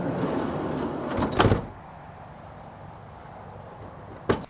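Camper van doors, parked by a river in a mountain meadow near Tahoe, shut with two sharp, close clunks: one near the start and a second just before the end, over a quiet outdoor hush.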